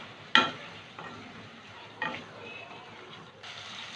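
Raw banana kofta curry masala sautéing in a pan, with a quiet sizzle and a few separate scraping strokes of a spatula.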